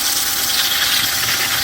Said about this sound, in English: I've put my sanding disc into the cordless drill, so let's give it a first go